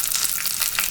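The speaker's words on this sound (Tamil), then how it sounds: "வெங்காயம் இந்தளவுக்கு வதங்கினா போதுங்க." Onions sautéing in hot oil for Kerala-style raw mango chutney make a close, steady sizzle and crackle that runs without a break and carries no voices.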